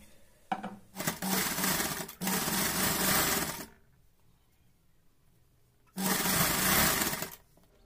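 An electric sewing machine stitches a seam on a reversible newborn baby cap, a steady close whirring hum in two long runs, a pause, then a shorter final burst.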